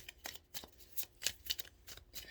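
Tarot cards shuffled by hand during a card reading, a quick run of soft papery riffles and flicks with short pauses, close and fairly quiet, with no talking.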